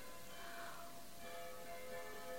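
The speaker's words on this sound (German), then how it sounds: "Diese blöden Glocken, die lenken mich jetzt komplett ab." Church bells ring steadily at a distance, faint and continuous, with overlapping tones under a broad wash of background noise.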